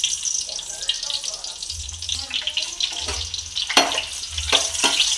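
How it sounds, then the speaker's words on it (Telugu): Potatoes for aloo masala curry frying in hot oil, giving a loud, continuous sizzle with bursts of crackling and spattering close by. "ఇవి బాగా ఫ్రై చేసుకోవాలి."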